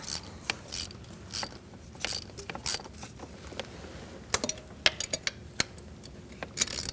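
Close-up ratchet clicks while thermostat housing bolts are snugged down on a 2008-2014 Mercedes-Benz C300 3.0, working back and forth between bolts; irregular short bursts of crisp ratcheting with small gaps, no voices.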